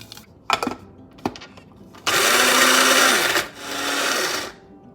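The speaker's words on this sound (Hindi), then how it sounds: "सबसे पहले हम इन साबित मसालों को ग्राइंड कर लेते हैं।" An electric spice grinder pulverises whole spices for karahi qeema in two loud, steady whirring bursts, the first longer, after a few sharp clicks and knocks.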